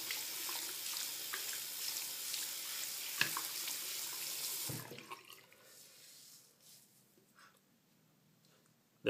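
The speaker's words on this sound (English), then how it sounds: "take the pad and you're just going to lightly scrape down" A Katadyn ceramic filter element is scrubbed with a pad under running water, no soap. A steady close rush of water with faint scraping lasts about five seconds, then gives way to quieter drips and light rubbing.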